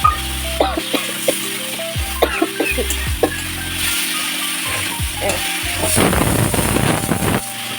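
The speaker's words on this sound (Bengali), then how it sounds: "আমি মশলাটা এভাবে গুলিয়ে দিই।" A spice masala of cumin, coriander, ginger paste, chilli powder and salt is stirred in a bowl: clinking, scraping spoon strokes in short bursts, ending in a denser, wetter churning sound, close by.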